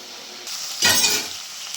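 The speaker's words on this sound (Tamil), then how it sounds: "அப்படியே டொமேட்டோ வதங்குது பாருங்கள்" Onions and tomatoes sauté in a pan for paneer butter masala gravy: a short, loud burst of sizzling rises after a quiet stir, then settles back to a low fry, with no talking.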